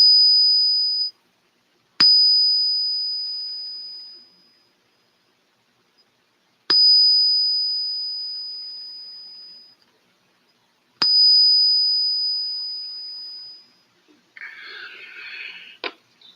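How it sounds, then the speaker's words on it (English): A phone alert tone sounds three times, each a sustained bright electronic ding that rings out and decays, separated by short silences, with a brief soft rustle at the end. "My new ringtone or alerts tone."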